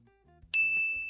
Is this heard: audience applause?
no